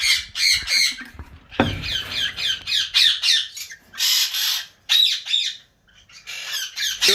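A cockatiel or rosella in a breeding setup squawks in loud, harsh bursts, a rapid run of shrill calls with short gaps between, close and clear with no talking.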